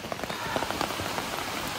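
Rain falls during a hike to a waterfall along the Hoosac Tunnel, a close, steady patter of drops striking surfaces with scattered louder splats, and no one speaking.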